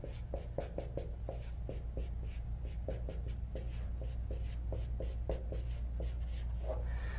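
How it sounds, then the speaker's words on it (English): A pen scratching out handwritten notes, with quick, steady strokes and short pauses between words, close and clear over a low background hum, with no talking. "you want to write this down"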